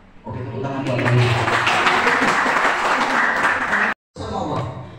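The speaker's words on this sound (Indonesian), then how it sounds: "Oke, tepuk tangan buat kami." An audience at a teachers' talk on work ethic claps together in a dense, steady burst of applause that runs several seconds, cuts off briefly, then picks up again.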